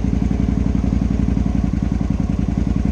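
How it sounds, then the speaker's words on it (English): A Honda XL Varadero 125 motorcycle engine idles loudly and close by, with a steady, even, rapid thumping rhythm throughout. "Now that's a more steadier idle speed."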